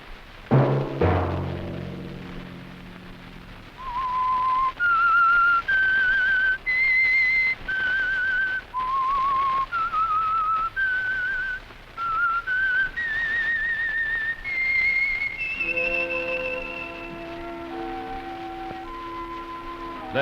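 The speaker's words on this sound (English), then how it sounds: "Let that whistle be your signal" A clear, solo whistled melody of sustained notes moving up and down, loud and close, ending with a musical sting.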